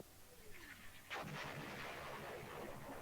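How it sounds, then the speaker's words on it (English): Cannon fire sounds in the hex-based, turn-based strategy wargame East Front 2: a single booming artillery blast that swells and rolls on with a rumbling tail. "so unfortunately we couldn't drive them off with cannon fire"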